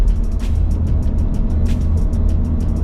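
Bi-turbo Ford Everest engine pulling steadily uphill at constant throttle, a low continuous drone with rhythmic road ticks, heard from inside the cabin without talk.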